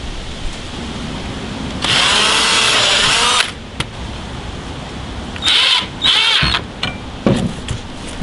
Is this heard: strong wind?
no